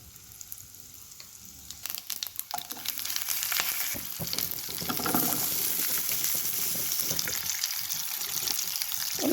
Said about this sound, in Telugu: ఇప్పుడు ముందుగా మనం పోపు వేసుకుందాం